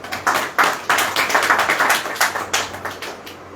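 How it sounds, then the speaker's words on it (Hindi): A crowd at a religious gathering claps hands in a steady, rhythmic beat, loud and close, with repeated sharp claps filling the short stretch and no talk over it. "ताली बजाओ।"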